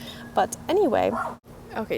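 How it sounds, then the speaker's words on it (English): Dogs barking outdoors in a neighbor's yard, short yips and bow-wows overlapping with someone talking nearby, her voice dominant and the barks intermittent in the background. "If you can hear the dog barking"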